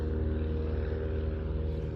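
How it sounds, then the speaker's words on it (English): An old helicopter flies overhead at a small airfield, a loud steady low rumble with a rapid rhythmic chop from the rotors throughout. "That's an old helicopter."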